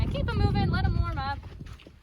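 A horse moves around a round pen, its hooves thudding in a low rhythmic clip-clop under a person talking close by.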